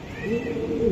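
A grizzle male racing pigeon coos in a low, rolling call close by, with a faint higher tone above and some background noise.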